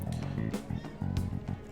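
A cat meows in a few short calls close by, mixed in with video game music and sound effects.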